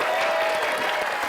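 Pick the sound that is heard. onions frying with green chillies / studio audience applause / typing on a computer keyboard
studio audience applause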